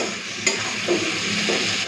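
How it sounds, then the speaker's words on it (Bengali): Steady sizzling hiss from onions frying in a pan, with a couple of faint clinks and scrapes over the constant crackle. "পেঁয়াজটাকে প্রথমে লাল করে ভেজে নিই"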